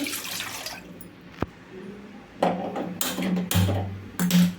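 Water pours in short splashing bursts from a cup, close by, with brief pauses and a faint click between them; no voices.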